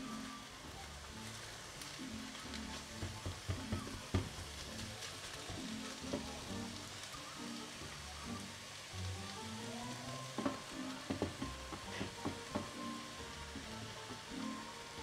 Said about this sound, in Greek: Μόλις θα σταματήσει ο ήχος τσιτσιρίσματος